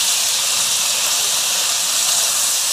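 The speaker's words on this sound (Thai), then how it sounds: "ผัดจนกิมจิกับหมูเข้ากันนะครับ" Kimchi and pork stir-frying together in a hot pan, giving a loud, continuous hiss of sizzling that runs unbroken for a few seconds before cutting off abruptly.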